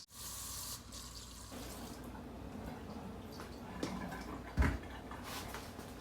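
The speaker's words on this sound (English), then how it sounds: "I'm just going to put them in this pot, cover them with water." Running tap water fills a pot of dried chickpeas, a steady broadband rush with small splashy bumps near the end, close and alone.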